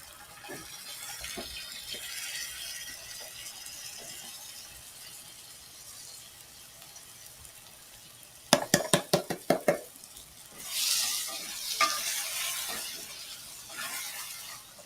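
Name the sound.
stirring black beans and their juice into a pan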